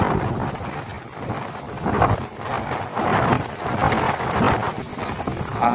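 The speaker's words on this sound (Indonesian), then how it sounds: "Angin di sini lumayan sangat kencang ya." Strong wind gusts buffet the microphone at a toll road construction site on the Bocimi toll project, producing a loud, continuous rushing roar that swells and eases.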